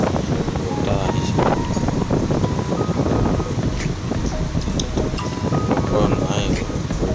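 Wind gusting past while travelling along small roads toward Digboi, a buffeting rumble and whoosh against the microphone, with a person talking through much of it.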